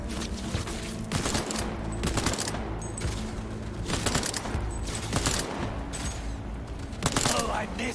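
Enemy gunfire rakes toward the player in Cyberpunk 2077: loud, sustained automatic bursts that repeat in rapid clusters roughly every second or two, layered over a steady mechanical hum and game soundtrack.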